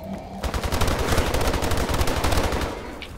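HBR A3 rifle fired in Call of Duty: Advanced Warfare exo-zombies mode, a loud, sustained burst of rapid automatic gunfire lasting a few seconds before trailing off.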